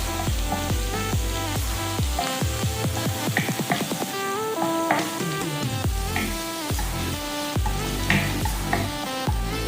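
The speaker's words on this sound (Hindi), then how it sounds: "गार्लिक को फ्राई करेंगे थोड़ा सा।" Garlic frying in a pan for fried rice: a steady sizzle with occasional stirring scrapes, partly buried under loud background music.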